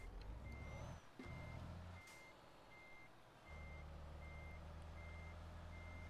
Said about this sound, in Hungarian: Akkor Peter hátra akar tolatni.